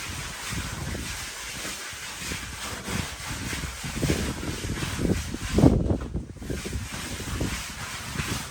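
Gusty wind with blowing rain buffets the microphone at a house under construction, a steady rushing roar rising and falling in strength.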